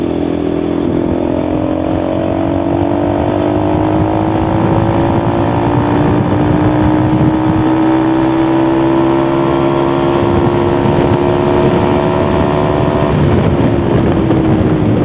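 A motorcycle fitted with an aftermarket M4 exhaust runs loud and close, its steady engine note climbing gradually in pitch as it revs, with no talking.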